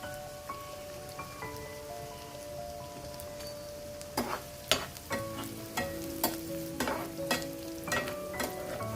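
Garlic and onion frying in a pan for a pepper curry, a steady close sizzle broken by sharp scrapes and clinks of stirring that grow busier toward the end, with no voices.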